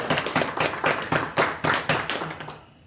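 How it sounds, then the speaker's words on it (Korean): A church congregation applauding during a Sunday worship service, a close burst of rhythmic, slightly uneven clapping that fades quickly. "우리 하나님께 다시 한번 영광의 박수 올려드리겠습니다."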